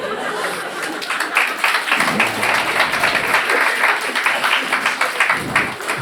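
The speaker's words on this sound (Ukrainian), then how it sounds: "Ваші оплески" Studio audience at a Ukrainian stand-up comedy show applauds steadily and loudly, with scattered chuckles and laughter mixed into the dense clapping throughout.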